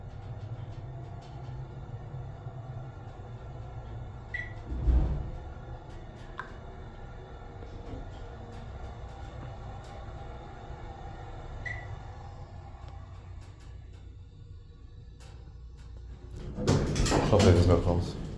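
A Burlington hydraulic elevator motor with a Dover Impulse controller runs with a steady low hum and rumble, punctuated by a few clunks and ending with a louder burst of mechanical clatter; someone talks over it.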